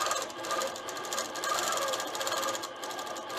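A sewing machine stitching free-motion quilting with clear thread on a Grinch quilt: a fast, steady mechanical whirring hum with a rapid needle pulse, continuous and close, no talk.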